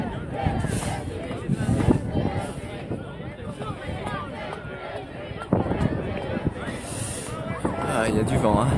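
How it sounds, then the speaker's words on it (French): Gusty wind buffets the microphone outdoors at a 2017 European Quidditch Cup match, a steady low rumble with a crowd murmuring and voices in the background. "Ah, il y a du vent, hein."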